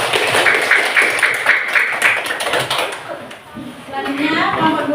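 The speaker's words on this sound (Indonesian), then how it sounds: "Ya, beri tepuk tangan untuk kelompok 1 ya." A classroom audience claps for a student group, a burst of mixed hand claps that fades after a few seconds while voices talk over and after it.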